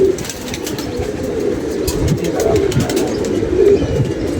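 Domestic pigeons cooing steadily, low and throaty, close by with a continuous murmur from several birds and no talk.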